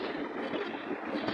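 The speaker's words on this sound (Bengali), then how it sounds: "দেখুন আমার ভাই পা দিয়ে বোট চালাচ্ছে।" Pedal boat being pedaled on a lake in a park in Rajshahi, heard as a steady wash of water and wind noise with no distinct strokes standing out.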